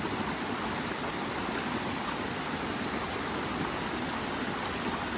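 Constant rushing roar of a waterfall, dense and even throughout, with no voices or breaks.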